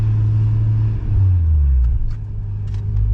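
A Nissan Skyline R34 GT-T accelerates with a close, steady low engine drone whose pitch shifts as it pulls away, with no voices over it.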